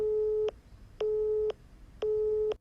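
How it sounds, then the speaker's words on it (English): Telephone busy signal on a public health department line: three evenly spaced half-second tones with equal pauses, clean and steady. "Many people who called got a busy signal from the Department of Public Health, and Landers said"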